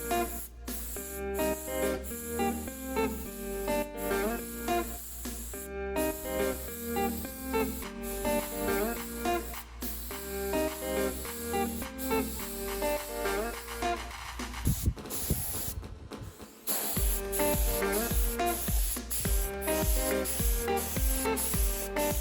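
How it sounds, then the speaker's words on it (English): Spray gun misting primer onto John Deere 300 parts in a workshop, a hissing spray in repeated bursts with short pauses, over a background of steady music. "Now I'm just gonna adjust the paint gun so it sprays properly"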